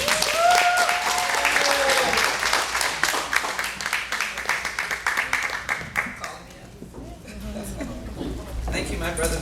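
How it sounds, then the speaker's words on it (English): Audience applause for Congresswoman Sheila Jackson Lee at a 2011 community event, a loud dense roar of clapping with cheers and a voice or two mixed in, easing slightly toward the end. "show a round of applause for our Congresswoman Sheila Jackson Lee"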